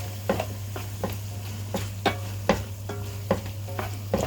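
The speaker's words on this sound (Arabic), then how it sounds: "نقلب دول كلهم كده مع بعض" Liver stirred with spices and dried coriander in a hot pan, a spoon scraping in a regular rhythm of about a dozen strokes over a constant low sizzle and hum.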